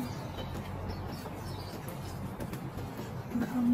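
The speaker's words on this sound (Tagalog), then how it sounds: "At ang daming ibon," In a garden of blooming camellias, many birds coo and chirp softly in the background, faint and scattered, over a low ambient hum with no talk.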